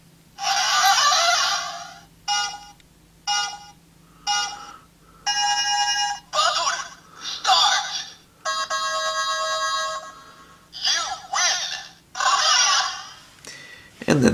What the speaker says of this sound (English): Then we got the bell sounds.